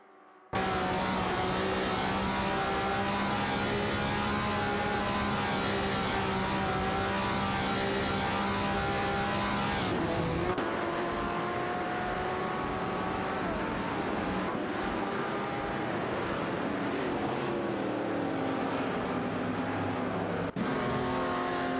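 Race cars in an AI-driven racing video game roar continuously at close range, engines holding steady pitch then shifting as cars jostle for position, with abrupt cuts between camera views and no talk.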